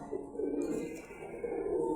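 Pigeons of one bloodline, including brown-necked birds, coo close by in low, throaty, rolling calls that repeat over two seconds, with no talking.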